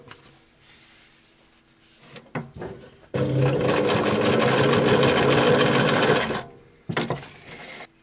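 Sewing machine stitching 2 mm leather with no leather needle, a few handling knocks before a loud, steady mechanical whirr runs for about three seconds, then stops and is followed by brief clunks.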